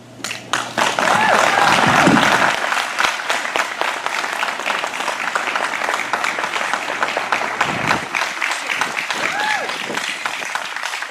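An audience gives warm, sustained applause for a speaker named Kalisha, with sharp individual claps standing out and voices calling out over the crowd.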